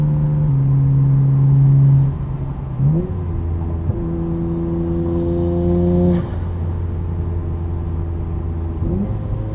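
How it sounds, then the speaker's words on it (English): A 1999 Nissan Skyline R34 GT-R with a twin-turbo engine and aftermarket exhaust drones at steady cruise, a loud low hum from inside the cabin with slight shifts in pitch as the throttle changes. "Which I think would actually be phenomenal if it weren't for this exhaust. It does drone a bit."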